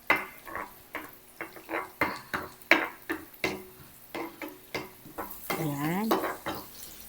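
Pork fat sizzling in a hot pan while cooking pork caldereta, with clanks and scraping of a utensil stirring against the pan in a steady rhythm and brief bits of speech.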